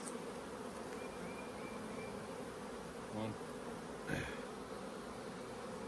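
A soft, steady hum of honey bees buzzing throughout as they are shaken down into a hive above a queen excluder, with a couple of brief louder knocks or bumps partway through.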